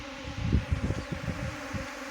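A honeybee swarm settling near a tree and hive box buzzes as a steady low drone, close and moderately loud throughout, with no talk.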